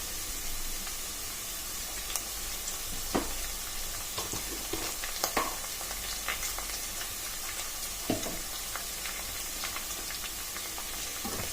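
Onions with curry leaves fry in a pan for a ridge gourd gravy curry, giving a constant soft sizzle broken by occasional scraping stirs of a spoon.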